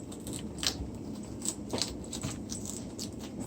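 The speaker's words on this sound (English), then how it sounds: "So I cut the core out." A knife cuts the core out of a washed head of cabbage: a few faint, crisp crunches and scrapes at irregular moments over quiet room background.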